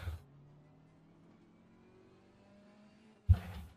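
An engine in a racing video game climbs steadily in pitch as it revs, a thin whining drone at moderate level, ending with a sudden loud thump.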